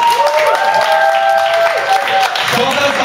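Audience applause at a small evening show in Vieux Beauharnois, a steady roar of clapping from a crowd with a voice and tonal sounds carrying over it.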